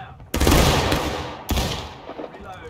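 Musket volley crashing out in the War of Rights video game, two loud ragged bursts of massed gunfire about a second apart, each trailing into a rumbling echo.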